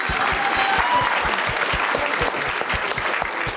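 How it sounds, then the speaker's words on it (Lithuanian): Dense, sustained applause from a comedy show audience, many hands clapping fast and evenly at close range for several seconds without pause. "Plojimai, Evaldui."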